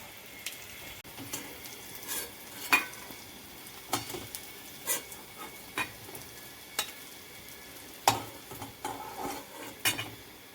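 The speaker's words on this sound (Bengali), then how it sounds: "এবার এগুলো ভাজা হয়ে গেছে লাল লাল করে, এবার এগুলো আমি আস্তে আস্তে তুলে নেব।" Taro leaf pakoras frying in hot oil are lifted out one by one, with a low steady sizzle broken by repeated scrapes and light clinks of a utensil against the pan.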